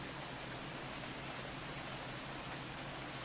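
Steady, even hiss of rain falling in the video game Phoning Home, a dense wash of drops with no breaks, fairly quiet and uniform throughout with no voices.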